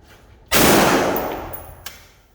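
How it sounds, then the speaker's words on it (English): A single loud shot from a Springfield Armory Saint rifle at a range, sharp onset with a long decaying echo and a faint metallic ping afterward. "We'll shoot another couple of rounds."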